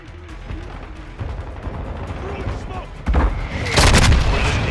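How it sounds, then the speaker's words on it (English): Mortar strike explosions boom in Modern Warfare 2 multiplayer, a loud burst of heavy blasts arriving near the end over steady background battle noise and scattered shots. "Friendly mortar strike on the way."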